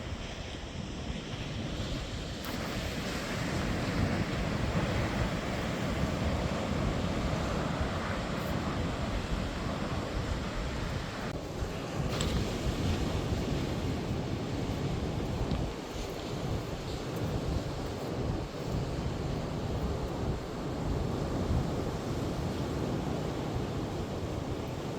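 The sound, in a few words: offshore wind at the sea, Gansbaai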